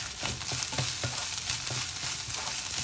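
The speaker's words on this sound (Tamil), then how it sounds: "இது நல்லா 2 நிமிஷம் வதக்கிக்கலாம்" Onion, ginger and garlic with turmeric sauté in a pan for mushroom masala, a steady close sizzle with repeated scraping stirs of a spatula and no talk.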